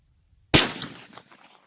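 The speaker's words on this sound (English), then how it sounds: "I'm shooting this at 35 yards off of a rest" A single revolver gunshot fired from a rest at 35 yards: one sharp, loud crack that rings out and decays over about a second.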